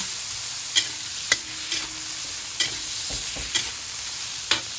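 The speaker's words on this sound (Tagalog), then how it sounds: "Igisa nyo lang." Shrimp sautéing with bamboo shoots in a pan: a steady broadband sizzle runs throughout, with about six sharp utensil knocks and scrapes at irregular intervals as the mixture is stirred, with no talking.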